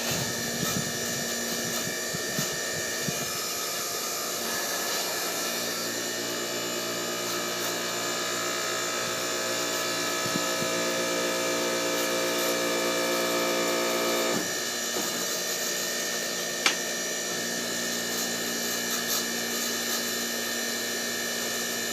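A portable hydraulic press works on oil-filled tubing with a steady, loud mechanical drone and hum that shifts pitch partway through, plus a faint clank near the end, with no talking.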